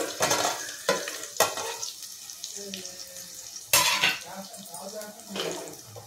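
Onions frying in a pan for chicken biryani, stirred with repeated scraping strokes of a spoon over a steady sizzle, close and fairly loud.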